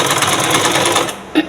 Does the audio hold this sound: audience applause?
no